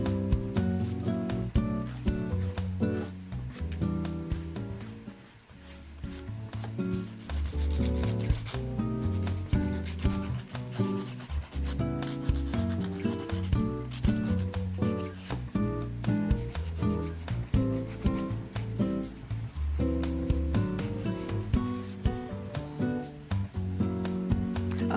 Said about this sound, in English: I finished filing it with the hand file